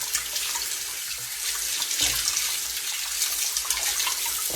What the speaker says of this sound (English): I'm going to rinse all that blood and everything off of them like this.